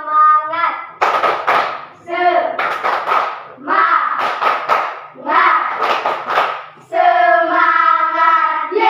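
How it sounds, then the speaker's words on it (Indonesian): A classroom of fourth-grade pupils performs a rhythmic chant-and-clap routine, bursts of brisk group clapping alternating with children's voices chanting in a call-and-response pattern, close and loud. "Tepuk semangat."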